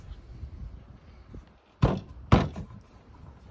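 A VW T4 headlight gets two sharp knocks about half a second apart as it is tapped into place, close and loud over low background noise.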